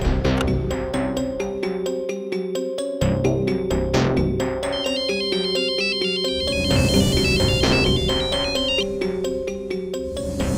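Telephone ringing with a melodic ringtone in a tense TV crime drama scene, repeating tonal phrases over background music, loud and continuous with no talk.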